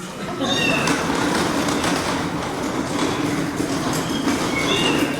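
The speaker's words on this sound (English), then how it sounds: "We heard meowing coming from the storage unit" Cats meowing from inside a storage unit, a couple of brief high mews heard over a steady loud rumbling background noise, somewhat masked.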